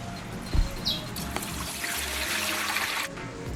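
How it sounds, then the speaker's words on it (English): Steady running water splashing and trickling close by as crabs are rinsed, with a faint bird chirp in the background and no speech. "We then rinse it with clean water."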